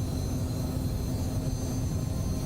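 Simulated Cessna Citation CJ4 business jet engines at takeoff thrust in a flight simulator, a steady loud broadband roar with a high whine, continuous and unchanging, with no talk.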